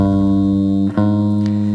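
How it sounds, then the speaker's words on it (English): Picked guitar downstrokes on fretted strings: one sustained note, then a sharp pick attack near the middle starts the next string ringing, played alone and close. "I'm doing downstrokes and I'm just hitting the next string."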